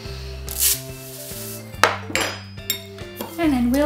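A spoon scooping bath salts into bottles through a funnel, with close clinks, scrapes and gritty rubs of metal against glass in irregular bursts over a low steady hum.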